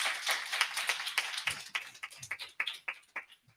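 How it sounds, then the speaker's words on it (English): A small audience at a civic affairs summit claps for an arriving bishop, with fairly quiet, close, irregular hand claps that start as a cluster and thin out to a few sparse individual claps. "let's give him a hand clap as he comes"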